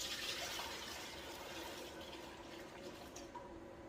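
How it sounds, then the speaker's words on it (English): Homemade chicken broth for chicken and rice soup pours steadily back into a cooking pot, a continuous liquid splashing and gurgling that stays fairly close and fills the whole moment without any talk. "I'm going to put this beautiful, beautiful broth back into my pot"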